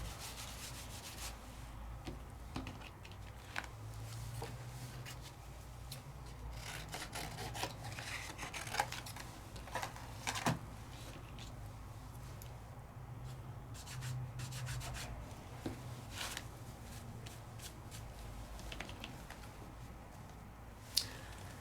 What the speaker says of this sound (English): I'm wiping it off where the embossing powder is